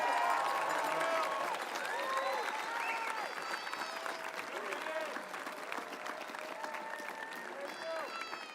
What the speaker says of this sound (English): How about one more round of applause for the class of